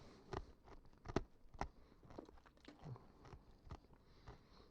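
A hard cherry candy is crunched between the teeth in several sharp, close bites with softer chewing between them, quiet and without talk.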